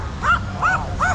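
A small dog gives three short, high yips or barks spaced evenly over about a second, fairly close and moderately loud, heard outdoors on a street against a low background rumble.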